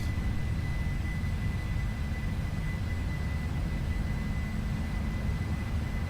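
Boeing 747 jet engines at full takeoff thrust in a flight simulator, a steady loud continuous roar with a faint high whine running throughout.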